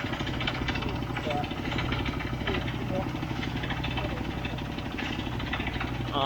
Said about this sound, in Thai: ผม เจาะลึกลงไปประมาณ 18 เมตรนะครับ ก็ถือว่าโอเค ท่อ4นิ้วครับผม